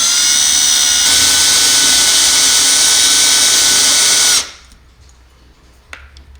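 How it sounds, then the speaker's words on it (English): A power drill bores into a forklift light housing at a loud, steady high-pitched whine for about four seconds, then stops abruptly, leaving near silence with a faint click. "And start drilling"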